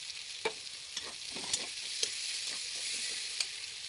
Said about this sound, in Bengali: পেঁয়াজগুলো লাল করে ভাজবো